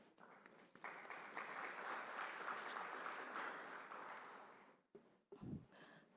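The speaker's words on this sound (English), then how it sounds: "you have to give a round of applause to yourself" A sustained round of applause from a large conference audience, steady and full for several seconds before fading out, followed by a brief low thump.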